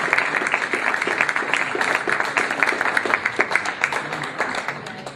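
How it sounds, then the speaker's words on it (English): An audience applauds the principals at a school facilities master plan symposium, steady dense clapping from a roomful of people, moderately loud and continuous with no speech over it. "Could we please give our principals a round of applause for the great job that they just did?"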